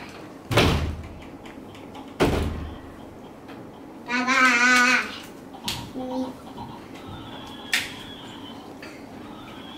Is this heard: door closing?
yes